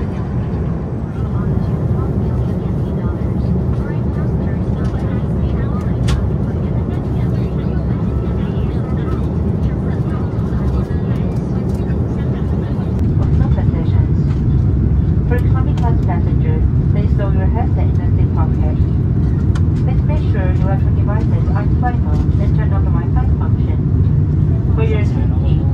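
Starlux A330neo airliner cabin during descent toward landing, a loud continuous low roar of engine and airflow that swells slightly partway through, with a cabin announcement and talking over it.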